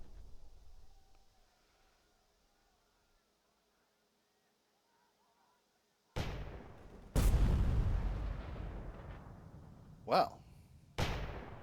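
Gunfire in the WWII strategy game Burden of Command: after a quiet stretch, several sharp loud shots and bursts break out in quick succession, close and harsh, with a brief spoken word among them.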